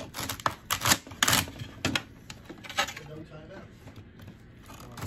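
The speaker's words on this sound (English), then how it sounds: "Cut the end off." A kitchen knife chops the ends off celery hearts on a cutting board in a home food-prep setting, giving several sharp, close taps and clacks in an irregular rhythm, with light handling noise between the cuts.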